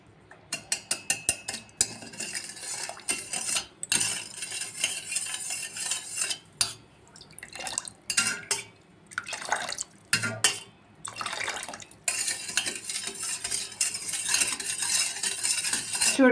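A spoon stirs Tang drink mix into water, opening with a quick burst of sharp metallic clinks against the container and followed by swirling, irregular taps and brief pauses.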